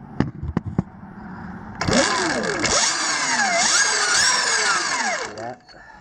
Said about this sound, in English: I'll blip the throttle real quick